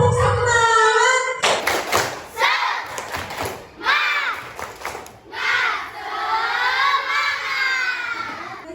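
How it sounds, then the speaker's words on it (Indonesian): A classroom of young children chant loudly together in a rhythmic clapping cheer, sung voices rising and falling between bursts of sharp group claps, close and lively. "Oke, kita tepuk semangat dulu."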